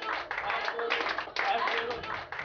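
A small group of people clapping together in a room, steady uneven applause lasting a couple of seconds, fairly faint, with talk mixed in.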